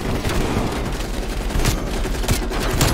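Rapid bursts of gunfire in Call of Duty: Black Ops Cold War, with the heavy blasts of a shotgun standing out in a dense, continuous battle mix of loud overlapping shots and booms.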